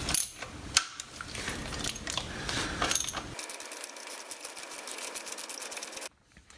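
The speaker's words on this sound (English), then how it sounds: "I'm actually doing the ratcheting from the bottom on the nut" A hand ratchet clicking as it turns a nut on the engine mount of an AMF Shovelhead Lowrider, first with irregular clunks, then a rapid even run of clicks, before stopping abruptly.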